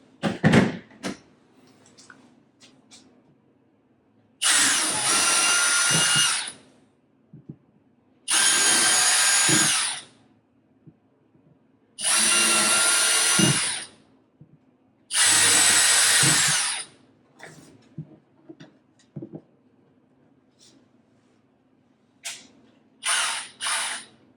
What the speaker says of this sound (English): So I can take that and drill out the space.